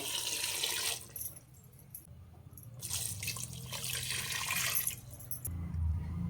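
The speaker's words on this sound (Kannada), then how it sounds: "ಜೋಳ ಮುಳುಗುವಷ್ಟು ಇವಾಗ ನೀರು ಹಾಕ್ತಾ ಇದ್ದೀನಿ" Water is poured steadily over corn in a metal pressure cooker in a couple of gushing bursts, with a clink near the end; close and fairly quiet.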